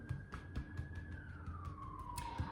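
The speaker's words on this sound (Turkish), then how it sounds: "Çöp arabası, siren sesleri şey." A siren wails in the distance outside alongside a garbage truck, its pitch holding steady then sliding lower, over a low rumble of outdoor traffic and city noise.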